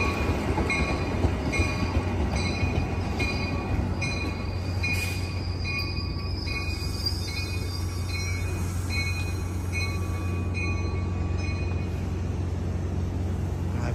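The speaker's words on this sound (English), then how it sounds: "this is Amtrak 712 San Joaquin train. 90218 is leading off. There it goes right there." Amtrak San Joaquin passenger train 712, a Venture car set bound for Bakersfield, pulls out of Emeryville station with a steady low rumble and rolling wheel noise that holds level throughout, close by and without talk.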